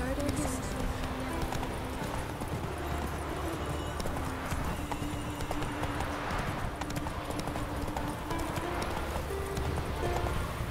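Roach, the horse in The Witcher 3, gallops with steady clip-clop hoofbeats over continuous game ambience, with a brief whinny; someone speaks over the riding.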